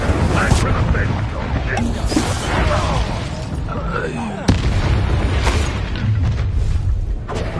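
Incendio fire spell blasts in Hogwarts Legacy combat, booming bursts over a dense, roaring rumble with a sharp impact midway, mixed with game voices and effects throughout.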